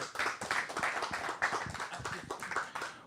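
Applause from a small audience at a songwriters' showcase: scattered, uneven hand claps close by, rising and falling in short bursts with no talk over them.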